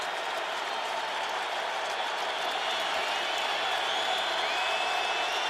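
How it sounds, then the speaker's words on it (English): A stadium crowd at an NFL football game in Indianapolis, Titans versus Colts in 2009, roars and applauds as a steady, broad wash of distant noise that swells slightly toward the end. "Crowd reacting here in Indianapolis."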